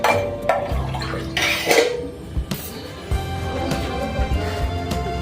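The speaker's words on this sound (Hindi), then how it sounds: "फाइनली मुझे अपने हाथ वॉश करना है।" Hands rinsed under running water at a sink, with splashing and trickling alongside clinks of dishes or utensils, close and moderately loud, no talk.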